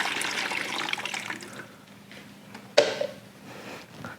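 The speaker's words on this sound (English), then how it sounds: "let's put it like a nice big glass of water in there." Water from a big glass pours into the reservoir of a Silonn compact ice maker, a steady close splashing rush for about a second and a half, then dying away to a faint trickle and a brief clunk.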